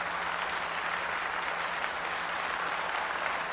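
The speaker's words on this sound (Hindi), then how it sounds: "जोरदार तालियों के साथ इनका स्वागत किया जाए।" A crowd at a stage awards ceremony honoring women applauds an honoree stepping up, a dense unbroken wash of clapping held steady at even loudness throughout, with no speech over it.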